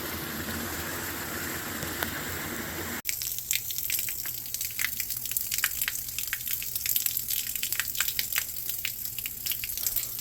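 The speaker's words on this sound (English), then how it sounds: "go run one of the outside faucets to purge as much dirt from the lines as I can" Water gushes steadily from an outdoor faucet on a gravity-fed creek water system, after a brief earlier noise, a continuous close rushing flow with faint spattering.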